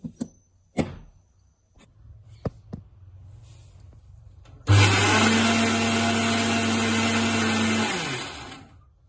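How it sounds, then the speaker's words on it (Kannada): A few light clicks and taps, then a mixer grinder grinding jackfruit seeds into powder whirs loudly at high speed for about three seconds before winding down. "ಇಷ್ಟು ಮಿಕ್ಸಿ ಮಾಡ್ಕೊಂಡು"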